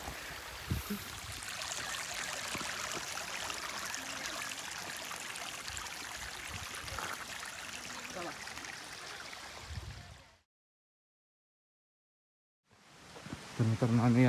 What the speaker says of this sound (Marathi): आम्हाला दुसरी वॉटर क्रॉसिंग लागली. छोटासा झरा.